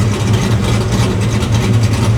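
Ford Foxbody Mustang engine running loud and steady with a low rumbling throb as the throttle is flipped, no voices over it.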